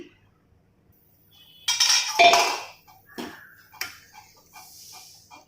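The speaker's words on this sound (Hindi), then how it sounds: "अब इसे मैं कवर करूंगी।" A lid goes onto a pot of raw banana curry with a few metallic clanks and clinks, one loud cluster followed by lighter taps, close by with no talking.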